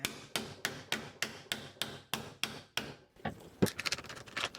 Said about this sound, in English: See if I can start hammering it down in there.